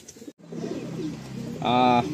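A white Madras pigeon coos in a home loft: soft low murmurs under background voices, ending in a brief, louder tonal call near the close.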